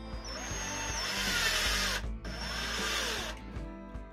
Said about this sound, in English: I like to drill the rivets with a small drill bit first.